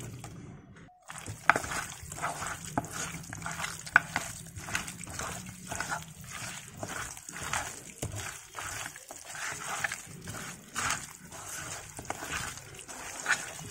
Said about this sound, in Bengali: ঠিক এভাবে সবগুলো সুন্দর করে উল্টিয়ে পাল্টিয়ে মেখে নিতে হবে